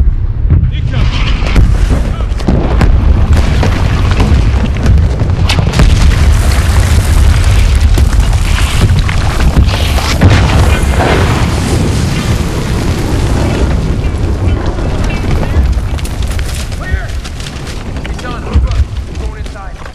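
A target building explodes in the war shooter Medal of Honor: Warfighter, a loud, sustained roar of deep booming blasts and crumbling debris that rumbles for the whole stretch with scattered sharp cracks.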